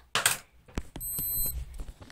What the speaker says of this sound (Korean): 또 알람이 났어